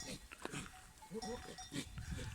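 Male goats make courtship calls in rutting season: low bleats and grunting calls repeat through a short stretch, fairly close and moderately loud, with brief bursts of noise between them.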